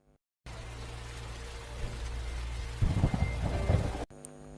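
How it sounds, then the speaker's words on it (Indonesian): Heavy rain pours steadily on a dark night with a low rumble of thunder swelling toward the end, a dense, loud wash of sound with no voices. "Deras hujan disertai petir menghiasi suasana gelap di malam itu"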